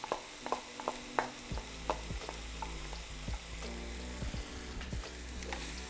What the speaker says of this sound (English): I've taken the cauliflower out of the microwave and I'm gonna put it directly into my pan.